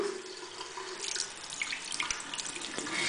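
Hot water running from a tap into a sink, a steady close splashing hiss with a few drips, no voices.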